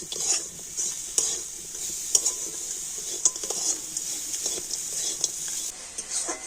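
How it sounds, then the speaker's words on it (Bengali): A spoon scrapes and stirs a sticky date-palm jaggery filling for pitha in a pan, steady clinks and scraping with a light sizzle, close and continuous. "আর একটু এইভাবে নাড়াচাড়া করে তো সুন্দর একটা আঠালো পুর তৈরি করে নিয়েছি"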